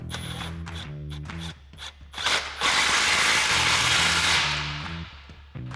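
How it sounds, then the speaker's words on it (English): A ratchet fitted with a 15mm socket clicks in quick bursts while tightening an exhaust hanger clamp on a Tacoma's slip joint, with a louder stretch of scraping metal between the close, crisp pawl clicks. "So we're going to start with our hanger clamp. We'll get our 15mm socket."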